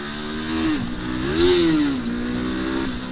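A Suzuki GS500E motorcycle engine revs up and settles again while downshifting into first gear on a snowy, icy winter track, a steady close drone that swells in pitch before easing back.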